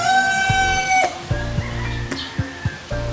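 Chickens with fowl pox cluck and call close by, with a few short sharp knocks and taps mixed in.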